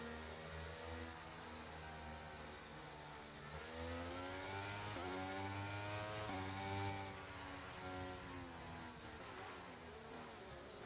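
A Formula 1 race car in a racing video game revs behind to warm its tyres, its engine whining up and down through the gears in steady sweeps, faint and continuous.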